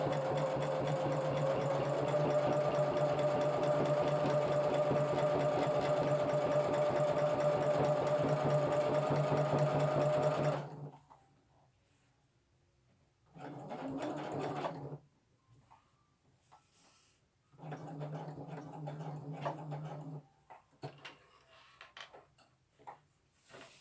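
A sewing machine stitches a seam on a small camo pouch, first running in one long continuous whir, then falling silent and starting again in several shorter bursts with quiet gaps between.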